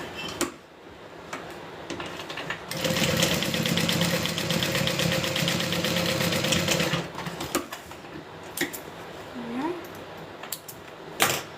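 A sewing machine runs steadily for about four seconds, top stitching a garment, with a close, even mechanical whir. Quiet handling noises come before and after the stitching run, and a voice briefly speaks.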